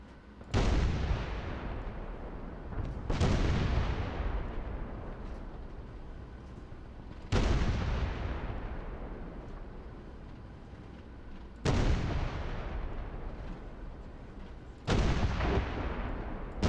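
Tank cannon shots in the War Thunder video game, five loud booming blasts spaced a few seconds apart, each followed by a long rumbling decay, with no talking.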